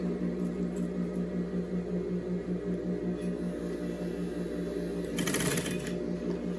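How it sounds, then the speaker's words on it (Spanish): A sewing machine stitches steadily through fabric for a protective biosafety coverall, a continuous mechanical hum with a fast regular pulse throughout, briefly joined near the end by a sharper burst of rattling. "Y voy a ir cosiendo"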